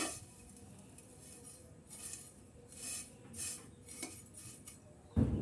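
Vermicelli dry-roasting over low heat in a wok on a stove, heard as quiet, intermittent metallic clinks and scrapes of a utensil against the pan, close by and without talk.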